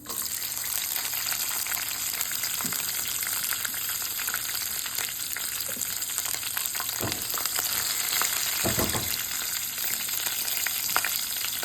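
Green chillies, ginger and garlic sauté in a hot pan, a steady loud sizzle and crackle running throughout, with a few soft scrapes and knocks of a spoon against the pan.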